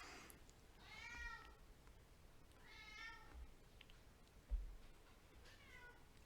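A domestic cat meows three times at an even pace, each call clear but fairly quiet and close, with a soft thump between the second and third.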